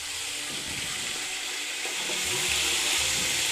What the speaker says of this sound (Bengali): এই সবগুলো পেস্ট আমি একলগে দিয়ে দিব তেলে।